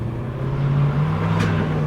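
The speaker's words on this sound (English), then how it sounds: "Oh, we just spun the tires." A 1974 Dodge Monaco Bluesmobile replica spins its tires, a loud steady engine drone with a brief rising hiss of tire scrub near the end.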